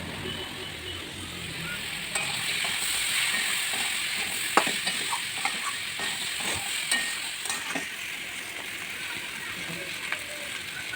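Vegetables stir-fried in oil with bay leaf, panch phoron and ginger give a steady, close hiss of frying, with scattered clicks and light scrapes from stirring throughout.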